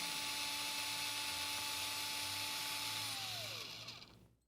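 Surgical drill whirring steadily through both cortices of a finger or hand bone during minimally invasive fracture fixation, a high continuous whine that drops in pitch and fades out at the end, heard alone.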